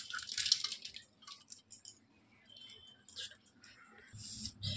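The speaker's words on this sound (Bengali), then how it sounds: "এখন এই কুকার থেকে সব ঢেলে নিচ্ছি" Soft boiled lentils are poured out of a pressure cooker into a bowl while making prawn and kochu dal, giving faint, scattered wet splashes, drips and light metallic clinks with quiet gaps between them.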